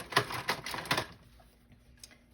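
A sewing machine runs a zigzag stitch for appliqué in a few quick bursts of rapid mechanical clatter, then stops, leaving a faint hum and a small click.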